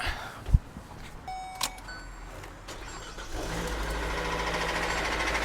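A car engine suspected to be blown cranks and starts after a few clicks and clunks, then settles into a rough, steady running rumble.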